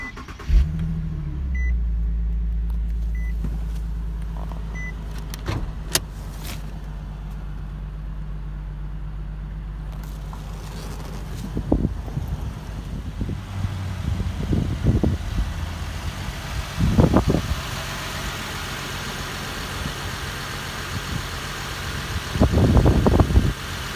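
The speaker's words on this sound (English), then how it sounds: "So to start the engine," A 2014 Nissan 370Z Sport Package started with a push-button intelligent key: the engine cranks and catches loudly near the start, then settles into a steady low idle with occasional faint clicks and a few louder blips.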